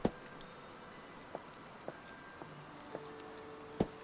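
Hammering in the video game Carto: a handful of sharp, isolated knocks spaced about half a second apart, a louder strike to open and close, over a faint ambient background.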